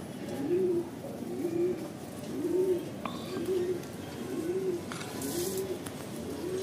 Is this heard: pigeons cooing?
yes